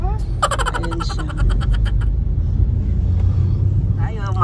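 Morning road traffic on Rizal Avenue in Manila, near an LRT station, with a steady low rumble of vehicles and engines close by and a few short honks and chirps cutting through early on.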